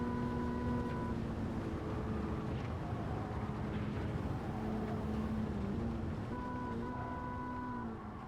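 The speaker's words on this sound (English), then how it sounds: "Engine noise was fab." Engine of an AC Cobra driven through valleys in the racing game Le Mans Ultimate, a steady droning tone with held pitches that shift and rise briefly, loud and continuous throughout with no talk over it.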